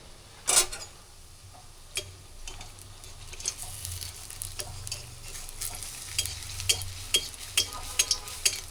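Food fries in a crowded wok with a soft, constant sizzle while a utensil stirs it. The stirring gives repeated scrapes and clicks that grow busier toward the end, and no voices are heard.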